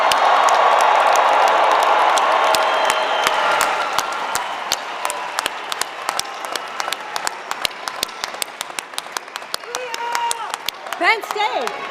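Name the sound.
applause for the graduating class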